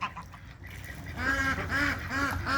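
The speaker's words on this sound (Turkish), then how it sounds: "Ya ördekler, kazlar, bütün balıkları kaçırdınız ama ya." Honking, nasal calls of ducks and geese at a pond grow louder partway through, several calls in a row following a quieter start.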